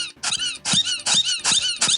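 A Disney Store Wheezy penguin squeaker toy, its squeaker weak and wheezy, gets squeezed repeatedly in fast rhythm, five or six loud, close squeaks running almost back to back.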